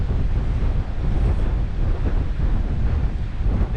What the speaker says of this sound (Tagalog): sobrang lakas ng hangin kasi dito